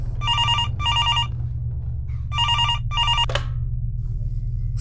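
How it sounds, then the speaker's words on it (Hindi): A telephone rings in two double bursts of electronic trilling, followed by a brief click over a low steady hum. "अभी वो घर पहुंची ही थी कि उसका फोन बजा।"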